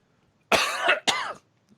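Two sharp, loud coughs in quick succession close to the microphone, the second slightly shorter, alone against near silence.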